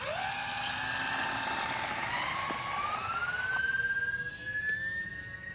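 E-flite Aero Commander UMX small electric RC plane taking off with flaps down, its motors whining loudly and climbing steadily in pitch as it accelerates away.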